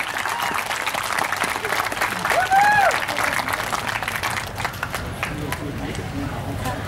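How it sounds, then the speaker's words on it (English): An audience claps for a Nitro Circus rider in a sustained, moderate round of clapping. Talk and brief vocal sounds run underneath. "Let's clap it in for Noah."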